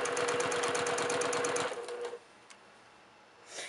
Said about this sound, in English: you can see how quickly free motion quilting covers an entire quilt